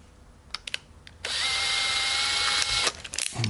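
A power drill fitted with a 3mm bit runs for about two seconds with a steady high whine, preceded by a few short clicks and trigger taps and followed by brief handling noises.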